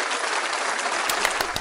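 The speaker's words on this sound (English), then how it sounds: "Wow, you get applause." Brief applause from a small crowd, a steady wash of clapping with a few sharper claps near the end.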